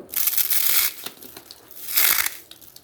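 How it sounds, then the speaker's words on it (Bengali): A crispy, puffy Bengali pitha cake is broken apart by hand, giving two close, crackly crunching bursts separated by a brief lull, with no talking. "আমি একটা পিঠা আপনাদের সাথে ভেঙে শেয়ার করি।"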